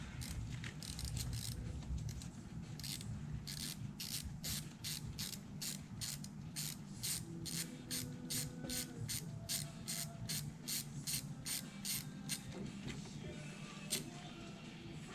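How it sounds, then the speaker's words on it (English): A Pittsburgh ratchet wrench clicking steadily while freeing a fuel injector on a BMW N55 engine, fast even pawl clicks in long runs, close but faint, over a low background rumble. "Good old Pittsburgh ratchets."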